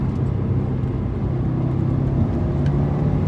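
A 2015 Subaru WRX in third gear while cornering gives a steady, loud engine and exhaust drone heard from inside the car, an even rumble without talk.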